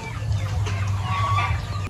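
Chickens clucking at a poultry farm in the Philippines, a steady close-range flock with low hum beneath and occasional higher calls, continuous for the whole stretch.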